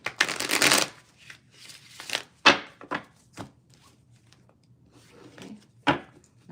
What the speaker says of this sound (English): We're going to reshuffle these again because there's way too many cards.